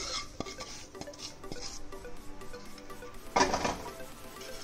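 Mashed potato mixed with a spiced tempering and red chili powder in a bowl for vada pav, with soft steady scraping and stirring and one brighter utensil clatter near the end.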